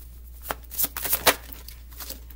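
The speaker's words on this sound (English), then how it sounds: "Give this a quick shuffle" A deck of tarot cards gets a quick shuffle, a handful of crisp riffling bursts close up over a low steady hum, with no talking.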